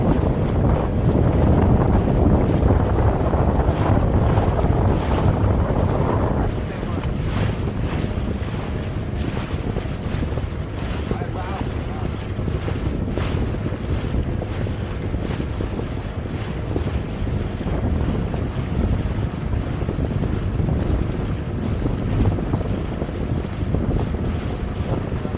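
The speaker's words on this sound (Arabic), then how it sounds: "امواج صعابين زعما صراحه،" Big sea waves and strong wind batter a small boat off Oualidia, a loud continuous roar of gusting wind and surging water buffeting the microphone throughout, louder in the first few seconds.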